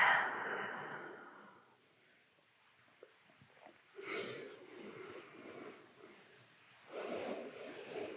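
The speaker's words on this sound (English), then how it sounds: "Breathing in deeply, exhaling completely." Slow, deep yoga breaths, drawn in and let out audibly in a quiet room, with soft gaps of near silence between two or three long exhalations.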